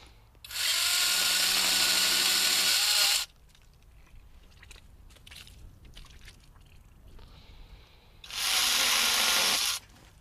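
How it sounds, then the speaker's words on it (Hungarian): Campagnola small one-handed electric vineyard chainsaw, made for vineyard use, running in two loud, steady bursts of high whirring buzz separated by a quieter stretch of faint handling noise. "ez egy láncfűrész, egy egykezes kicsi láncfűrész, ami abszolút szőlészeti felhasználásra lett tervezve"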